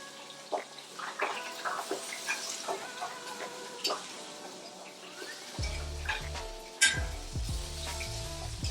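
Sausages fry in a hot, slightly wet pan with an even sizzle and sporadic pops and spits, joined midway by a louder rumbling burst of crackling and a sharp clatter.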